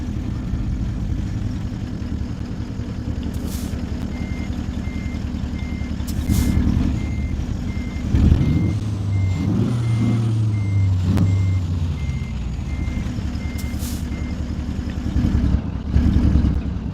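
Repeated reversing beeps from a truck backing out from under a trailer in American Truck Simulator, steady and clear over a constant low diesel engine rumble, with an air-brake hiss and engine surge partway through.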